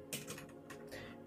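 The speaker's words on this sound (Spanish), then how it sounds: "hay gente que le gusta el sonido del teclado" Typing on an RK61 mechanical keyboard fitted with blue switches: a quick run of sharp, clicky keystrokes, close and fairly loud, with no talking over it.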